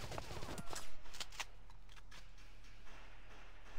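Rapid gunfire in the video game Valkyria Chronicles, a run of sharp shots in the first second and a half followed by scattered faint pops over a steady low game hum.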